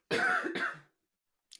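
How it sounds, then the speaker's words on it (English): A person coughing and clearing the throat, a lingering cough after a recent bout of COVID, one harsh burst split in two close together, then a brief faint sound at the end, with no talk over it. "Sorry, I've got a bit of a cough."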